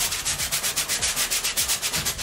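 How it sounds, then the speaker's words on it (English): Paintbrushes rub back and forth on canvas during oil painting of a mountain scene, making rhythmic swishing strokes about five per second, close and clear, with no voices. "you said you could hear the brushes before"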